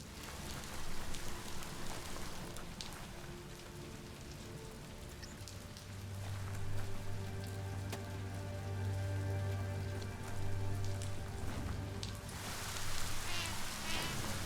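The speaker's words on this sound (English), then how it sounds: "Rain gets any worse, you could dissolve." Rain falls steadily on surfaces in the video game Biomutant, a soft, continuous patter with a low tonal hum underneath.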